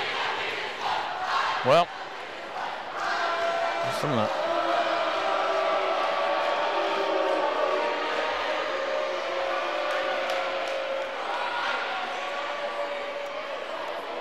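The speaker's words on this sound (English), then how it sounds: "Always fun to watch the high school crowds chirp at one another." A high school basketball crowd chants and shouts back and forth in a gym, a sustained rhythmic roar of voices with a few ball bounces early on and a commentator speaking briefly.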